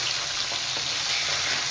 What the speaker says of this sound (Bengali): বোয়াল মাছ খুব ফুটে, এই জন্যই ভয় লাগে